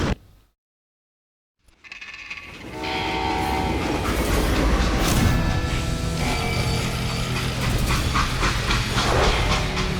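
After a brief silence, a train in the video game Call of Juarez: Gunslinger rumbles in and keeps rolling, with clattering wheels on track, metallic squeals and a horn-like tone, loud and continuous.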